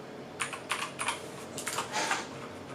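Keystrokes on a Keychron K10 mechanical keyboard heard up close, a handful of distinct clacky presses spaced unevenly with a short faster burst near the end, quiet and alone without speech.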